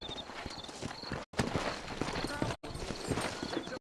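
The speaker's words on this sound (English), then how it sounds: "You ain't gonna find sturdier horses than these in all the New Austin." Horse hooves clip-clop at a steady walking pace in a western-themed GTA roleplay, close and continuous, with someone talking over them.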